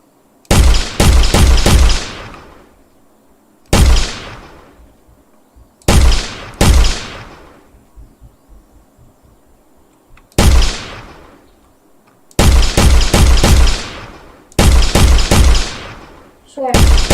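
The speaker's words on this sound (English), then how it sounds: "And so now we have projectiles shooting at us." Projectiles fire in a homemade Unreal Engine game in loud, sharp bursts, some single and some in quick clusters, separated by quieter gaps with faint talk underneath.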